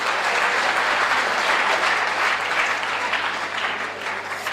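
A comedy show audience claps steadily and fairly loudly throughout, a dense continuous patter of applause with no voices on top.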